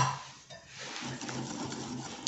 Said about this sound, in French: Et je mélange bien.